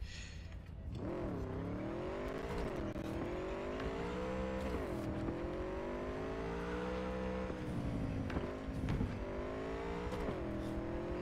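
A motorcycle in a GTA-like video game, ridden around with a continuous whining engine that repeatedly revs up and drops as it shifts, steady and loud throughout.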